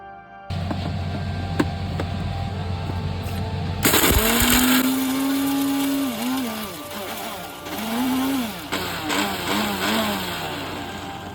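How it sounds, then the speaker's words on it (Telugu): A kitchen mixer grinder blitzes roasted whole spices into masala powder for gongura mutton. A low background hum comes first, then the motor kicks in with a loud, close whirring drone whose pitch dips and rises as the grinding goes on. "ఇవైతే వేయించేసి మిక్సీకేసేసాను"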